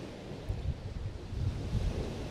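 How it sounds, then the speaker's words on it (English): Ocean surf rolling onto a beach in Mexico at dawn, a low rumbling wash of waves with gusty wind buffeting the microphone, steady and close, with no voices. "my 6 a.m. thoughts on the beach, watching the waves"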